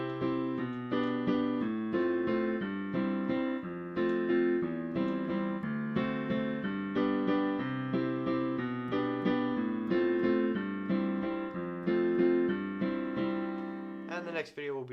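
Solo piano plays the verse chord progression of a song, steady rhythmic chords with a melodic line on top, sustained and close, with no talking.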